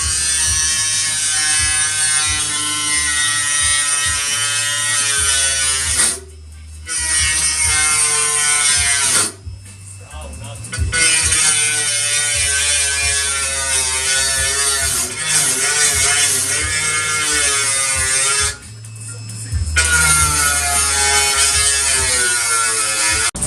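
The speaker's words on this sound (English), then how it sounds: "So right now Joey's cutting off those tabs." Fender tabs being cut off a Mazda Miata with a power tool: a loud, steady, buzzing whine that runs continuously, broken by a few short pauses and changes in pitch. No one speaks.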